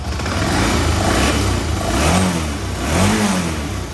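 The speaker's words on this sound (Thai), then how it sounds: "เครื่องยนต์ก็สูบเดียว" Single-cylinder engine of a 2004 BMW F650GS motorcycle with its stock exhaust, running steadily and close by, with a couple of brief revs rising out of the idle.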